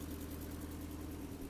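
A car engine idles steadily after a radiator replacement, a low, even hum and rumble that holds unchanged through a short stretch.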